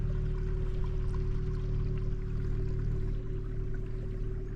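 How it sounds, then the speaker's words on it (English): Steady rushing creek water flows continuously nearby at Lake Sonoma, with no voices over it. "You can hear the water in the background."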